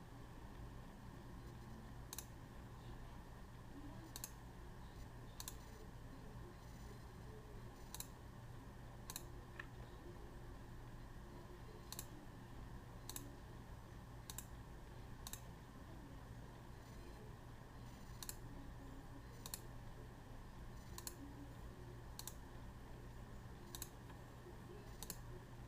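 Computer mouse clicking while edges are selected in 3D modeling software, sharp isolated clicks at irregular intervals over a low, steady room hum, with no speech.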